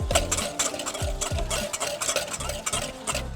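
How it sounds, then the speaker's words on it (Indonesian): Serabi bedono batter whisked by hand in a bowl, no mixer, a brisk, close run of rhythmic scraping strokes with regular pulses, steady and fairly loud, with no talk over it. "kalau misalkan kita buat serabi bedono itu nggak perlu mixer ya, karena dia itu diaduknya nggak perlu sampai mengembang banget"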